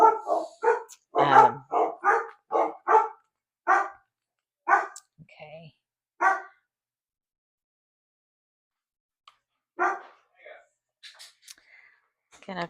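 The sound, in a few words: dogs barking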